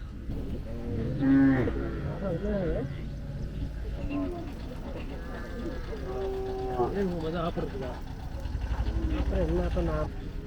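Native cattle at the Palayakottai cattle market low and moo repeatedly at close range, with people talking throughout and a busy crowd murmur underneath.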